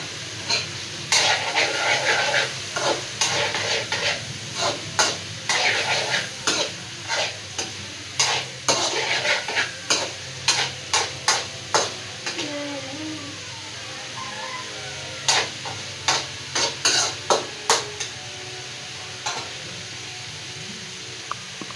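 Food cooking in a pan, a steady background sizzle of frying broken by a regular run of sharp scraping and clanking strokes as it is stirred, close and fairly loud, with a little talk now and then.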